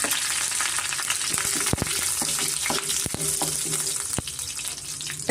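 Fresh crushed curry leaves and a bay leaf frying in hot oil for a chicken fry, a loud steady close sizzle with sharp crackling pops and light stirring.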